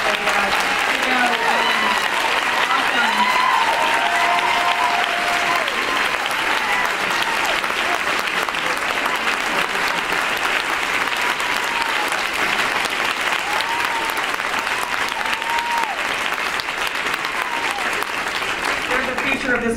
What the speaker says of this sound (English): I just wonder if the teens that are here would stand up so we could give them a round of applause.